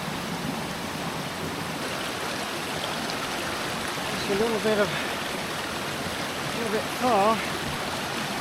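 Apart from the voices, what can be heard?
flowing river water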